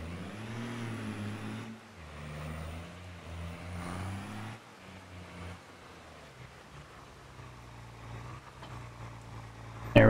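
An old truck idles and rumbles steadily in Farming Simulator 22, a low, moderately loud engine drone with slight shifts in pitch and no talk over it.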